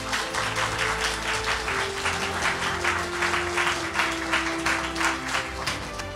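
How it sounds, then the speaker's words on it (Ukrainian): Loud, sustained audience applause at a televised gala concert for a singing show, a dense wash of clapping that holds steady throughout with a faint tonal hum beneath it. "Під ваші бурхливі оплески."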